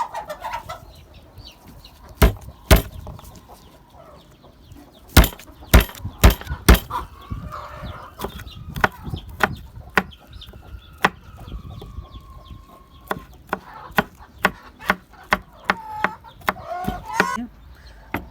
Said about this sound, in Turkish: Şimdi de sarımsaklarımızı doğrayalım.